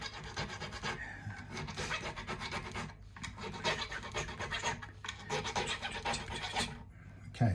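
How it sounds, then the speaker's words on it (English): A small file rasps steadily across the fret ends of a Stratocaster-style guitar, cleaning burrs where the frets meet the fingerboard: continuous close scraping strokes with brief pauses between passes, no voices. "I'll use the smaller file to go down and just clean up any potential burr right in the corner of these frets"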